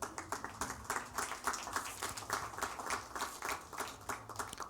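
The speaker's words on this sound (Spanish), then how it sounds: "Un aplauso al Señor." Church congregation applauding, a dense steady wash of many hands clapping at moderate distance that swells and dips rhythmically throughout, with no clear talk over it.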